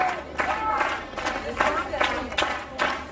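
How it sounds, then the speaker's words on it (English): A big crowd at the 1989 World's Strongest Man contest cheers and claps on a strongman straining through a lift, rising in repeated surges of shouts and applause, with a commentator talking over it. "Great encouragement from the big crowd, though."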